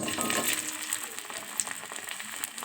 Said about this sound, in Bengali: তারপর ওই কড়াইতে দিয়ে দিলাম হচ্ছে গোটা জিরে